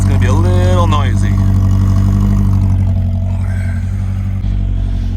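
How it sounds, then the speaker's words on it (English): A 1984 Toyota Tercel 4WD SR5 running with a noisy, damaged exhaust, a loud close rumbling drone with a brief rising rev at the start, then a steady idle. "there's the exhaust. We're going to have to fix that. That's going to be a little noisy."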